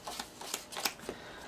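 Playing cards dealt out to players at a card table for a Mahjong-style card game, a run of short, soft slapping flicks landing at irregular intervals, close and fairly quiet with no talk.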